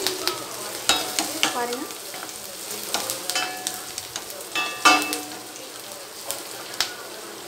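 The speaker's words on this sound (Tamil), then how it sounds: "பெரிய வெங்காயம் தான் கட் பண்ணியிருக்கேன். ஸோ இதையும் போட்டு ஃப்ரை பண்ணிக்கலாம்." Chopped large onion frying in a pan for samba rava idli, with repeated sharp scraping stirs and crackling sizzle in irregular bursts, close up, and a brief spoken word.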